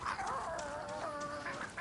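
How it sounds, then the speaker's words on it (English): A rooster companion in the video game Far Cry 6 crows badly, a loud, strained and wavering call that rises and falls continuously on its own. "He can't even crow properly."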